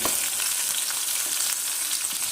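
Mustard seeds, urad dal and chana dal frying in hot oil for paniyaram, a dense, loud, steady crackling sizzle up close with no pauses.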